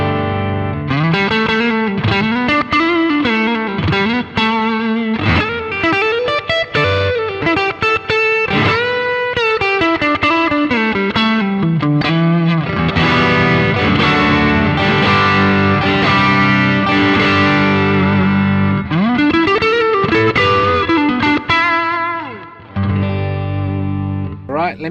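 Electric guitar runs through a Boss GT-1000 multi-effects unit on the Studio Rats patch, with a heavily distorted, chorused tone. It plays loud, sustained bends and melodic lines alongside strummed chords for a continuous, dense passage with no talking.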